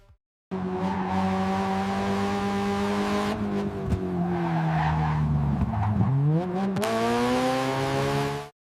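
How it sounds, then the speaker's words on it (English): A Toyota Supra MK4 with a Hycade wide-body kit drives by with a loud, close engine note. The pitch rises and falls through revs and gear changes, with bursts of tire squeal between them. "listen to that engine."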